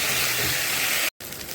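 Pieces of taro (kochu) fry in oil in a pan, giving a steady close sizzling hiss that cuts out briefly near the end, then resumes.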